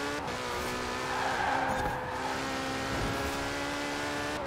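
Street racing in Forza Horizon 4 with a tuned hypercar, its engine holding a loud steady high drone with shifting harmonics while tires squeal and skid throughout, no voices.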